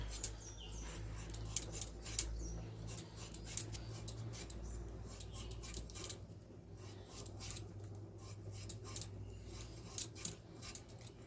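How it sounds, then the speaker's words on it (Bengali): A knife cutting potatoes into pieces, giving a run of quick, crisp close-up slicing and scraping strokes against a board, fairly quiet over a low steady hum. "আলুগুলো আমি পিস পিস করে কেটে নেব"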